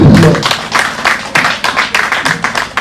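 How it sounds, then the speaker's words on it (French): Audience at an orphanage event applauding to welcome guests, loud close rhythmic clapping from many people with a voice briefly at the start. "Nous allons les accueillir par vos applaudissements."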